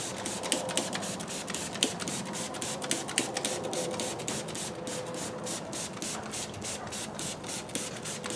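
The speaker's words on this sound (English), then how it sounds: "I'm going to spray it all over the side of the engine bay" Rapid bursts of a spray bottle being pumped, spraying dressing onto a car engine bay, quick hissing squirts in a steady rhythm, fairly close and moderately quiet.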